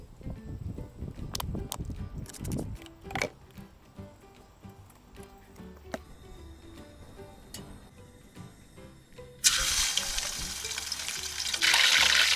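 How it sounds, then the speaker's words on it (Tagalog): Galunggong, round scad fish, frying in a pan, with scattered clatters and knocks early on, then a loud, bright crackling sizzle that swells near the end, close and without talk. "mag-start na tayo magluto ng ating galunggong"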